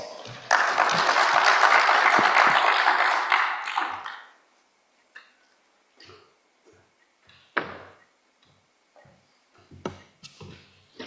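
Audience applause welcomes the Director General to the opening session of a conference, a loud burst of clapping lasting about four seconds that then stops, leaving scattered quiet knocks, footsteps and small handling sounds in a mostly hushed room.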